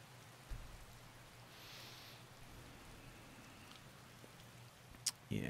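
Rain falls in the video game Skyrim as a faint, steady hiss, with a couple of soft thumps toward the end.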